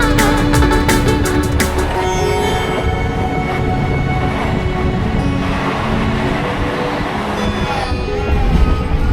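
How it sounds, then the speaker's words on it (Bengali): A passenger train on a single-track line in South 24 Parganas, heading toward Namkhana, runs at about 95 to 100 km/h, giving a steady loud rumble with rattling and a few rhythmic clatters near the start. "ট্রেনের গতি দারুণ, প্রায় 95 থেকে 100 কিলোমিটারের মধ্যে গতি আছে।"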